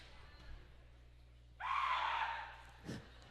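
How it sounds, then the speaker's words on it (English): A single sharp scream bursts from the student section of a high school girls' playoff basketball gym, lasting about a second amid quiet crowd murmur, followed by a brief thud. "blood-curdling scream from the Amery student section"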